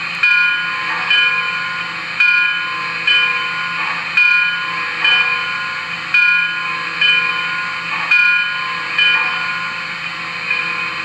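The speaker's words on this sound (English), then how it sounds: "And here's the bell." Bell of a Lionel Corporate Tinplate 269E model steam locomotive with an MTH sound system rings steadily about once per second, close and clear, over a constant background hiss.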